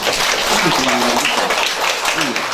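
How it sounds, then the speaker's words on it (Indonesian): An audience at a teacher-training session gives applause, a dense, loud clatter of hands mixed with voices talking over it throughout. "Tepuk tangan dong sedikit."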